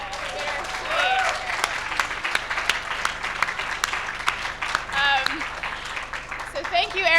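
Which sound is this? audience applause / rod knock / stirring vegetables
audience applause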